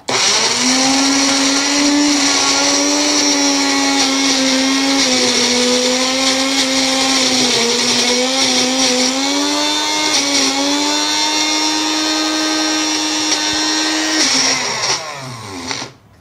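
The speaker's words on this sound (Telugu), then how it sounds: "సో బ్లెండ్ అయిపోయింది మొత్తం అంతా కూడా, ఒక చక్కటి ఫైన్ పేస్ట్ లాగా తయారయ్యింది" An electric blender whirs loudly and steadily for about fifteen seconds, blending a paste of hair dye ingredients, with a slight wavering pitch before it winds down and stops at the end.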